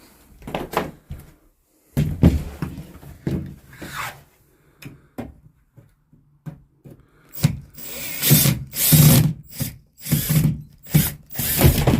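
A power drill whirs in short, loud bursts as it backs out a leftover screw in an RV bedroom, broken by clicks, clunks and quiet gaps, ending in denser runs of whirring.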